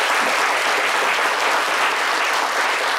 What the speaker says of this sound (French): Reçu avec les applaudissements de nos chers amis du public